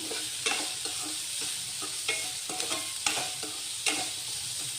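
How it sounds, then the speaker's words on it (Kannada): Cabbage stir-fried in a pan for gobi manchurian, a steady oily sizzle broken by repeated scraping strokes of a spatula at an uneven rhythm, close and alone. "ಫ್ಲೇಮ್ನ ಸ್ವಲ್ಪ ಜಾಸ್ತಿ ಮಾಡಿಕೊಂಡ್ರೆ ಫ್ರೈ ಮಾಡ್ಕೊಳ್ರಿ."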